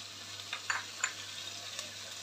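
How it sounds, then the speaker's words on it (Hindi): Vegetables for Hakka noodles sautéing in a hot pan, a steady broadband sizzle with a few sharper crackles and stirring scrapes, close and fairly loud throughout, no talking. "तकरीबन 2 से 3 मिनट तक हम वेजिटेबल्स को सौते करेंगे"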